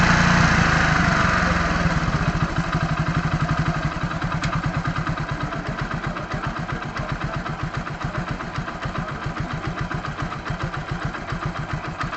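A Hero HF Deluxe motorcycle engine idles steadily at a fixed pace, its rapid regular firing pulses loud and close, slightly higher at first then settling lower.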